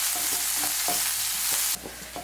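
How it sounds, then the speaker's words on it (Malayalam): Small onions and curry leaves fry in hot oil with a steady, bright hiss and faint crackles, close up and unbroken. "ചെറിയ ഉള്ളി ഒരുവിധം ഫ്രൈ ആയിട്ട് വന്ന് തുടങ്ങിയിട്ടുണ്ട്"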